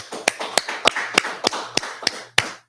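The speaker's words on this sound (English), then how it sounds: "let's clap it up" A small group claps in a steady, quick rhythm at a gathering: about nine sharp, evenly spaced claps, close and crisp, with no talking over them.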